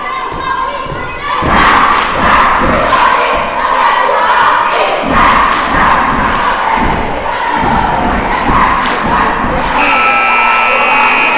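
Girls' basketball game crowd with the Freire Academy cheer squad cheering loudly and steadily, sharp thumps and stomps punctuating continuous shouting, ending with a sustained buzzer-like tone.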